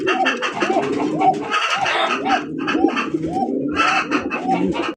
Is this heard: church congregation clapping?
no